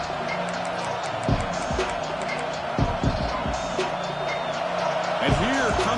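A football stadium crowd roars steadily throughout a college game between Notre Dame and Florida State, with a commentator talking over it and occasional thumps.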